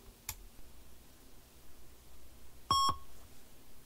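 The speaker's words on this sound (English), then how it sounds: "And there's the beep from my speaker" Startup beep from an Aquarius Plus Mini retro computer's speaker: a single short, clear electronic tone, nearly alone against faint room hiss, with a soft click a few seconds earlier.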